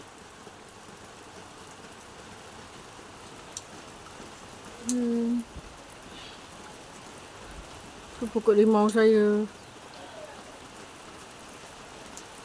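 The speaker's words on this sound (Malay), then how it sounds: "Hujan." Steady soft patter of rain fills the background throughout, with a person murmuring briefly and then speaking a short phrase over it.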